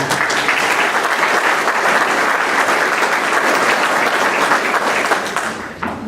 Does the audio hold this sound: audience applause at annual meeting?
yes